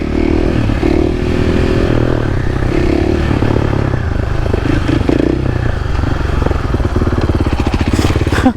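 A supermoto motorcycle out on a cruise roars loudly and close, its engine droning steadily with rising revs and rough clattering toward the end, heard alone without speech.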